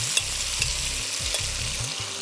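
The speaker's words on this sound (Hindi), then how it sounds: "अब इसको हम भूनेंगे।" Chicken frying bhuna-style in masala for Dak Bungalow curry, a loud close sizzle with rhythmic stirring scrapes repeating about every half second, no voices.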